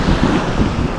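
Strong monsoon-driven sea waves and gusting wind roar continuously and loudly against the microphone in one brief, unbroken burst.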